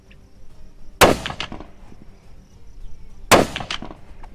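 Two loud, sharp rifle shots from a Ruger American Gen II firing Federal ammunition at a range, spaced a couple of seconds apart, each with a short ringing decay.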